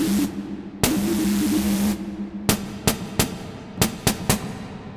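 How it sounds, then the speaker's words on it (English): Snare preset on an Elektron Model:Cycles, struck repeatedly over a steady hiss: one long noisy crack that sustains, then a run of short, sharp snappy hits in an uneven rhythm, close and dry with no voices. "And then track 2 has the snare."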